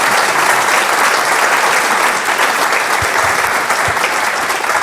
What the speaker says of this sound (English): That's where you clap as well, by the way.